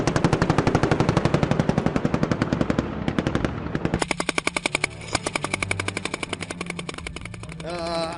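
Machine gun firing at a special forces demonstration, rapid evenly spaced loud bursts near the listener, a long string of rounds that briefly stops and then resumes.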